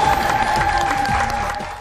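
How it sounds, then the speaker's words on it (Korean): A studio audience applauds at a Korean TV talk show, dense continuous clapping from many hands, loud and close, fading slightly at the end. "오늘 잘하시라고 힘찬 박수 한번 보내드립니다."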